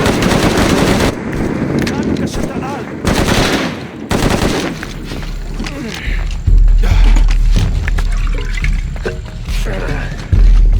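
Gunfire in the video game Shadow of the Tomb Raider, heard as loud bursts of shots among dense game effects and heavy low rumble, with voices talking throughout.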